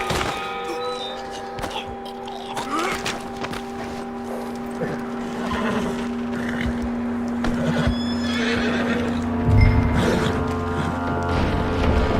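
A horse in Red Dead Redemption 2 whinnies and snorts over a steady hum of game music and ambience, with scattered hoof thuds and clops throughout and a louder low thump near the end.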